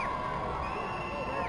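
Football fans cheering and shouting in the stands at a Port Charlotte vs. Southeast homecoming game, a dense continuous roar of crowd noise with whoops, loud and sustained.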